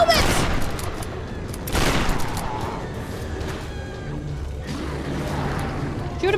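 Gunfire in the video game Tomb Raider, with bursts of shots and booms in sharp clusters over a steady game backdrop, heard with some voice activity mixed in.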